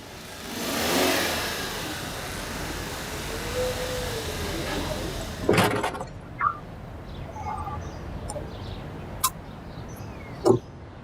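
Car pulling up to a gate, a mid-pitched engine swelling as it approaches then fading to idle, followed by a few sharp knocks and clicks and faint voices.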